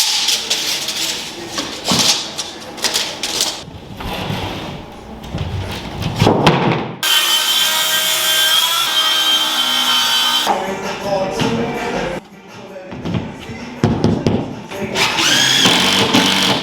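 A power saw cuts a full sheet of wall lining to height during a renovation of a 30-year-old house, a loud continuous cutting burst of several seconds amid thumps and handling noises of tools and materials.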